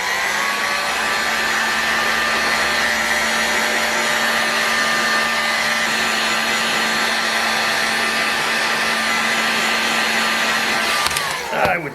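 A heat gun blows hot air steadily onto a model engine crankcase to warm it for bearing installation in a Magnum XL70 RFS engine, a loud continuous whirring roar with a whining tone that runs nearly twelve seconds before cutting off.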